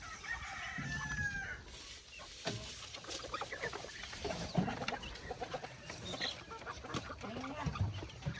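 A mother hen clucks in short, repeated bursts at moderate distance, with other fowl calls mixed in and a low background hum throughout.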